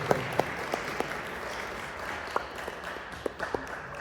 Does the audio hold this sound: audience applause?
yes